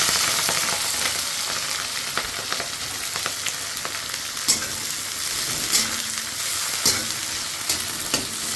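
Chopped onion and green chilli frying in hot oil with cumin and dry red chilli, a loud, close, continuous sizzle with intermittent stirring clinks and scrapes, no voices.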